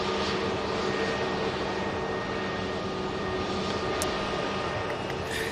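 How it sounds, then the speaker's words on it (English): A Virgin Atlantic airliner's engines hum in a constant, broad whine at Manchester Airport, a steady distant rumble with faint tonal lines and no talk. "And the Virgin Atlantic now on the taxi"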